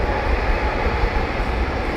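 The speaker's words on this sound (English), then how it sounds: "Royal Brunei taxiing out, coming out of Sierra." A Royal Brunei jet airliner taxiing out at London Heathrow, a loud steady broadband engine roar holding constant throughout.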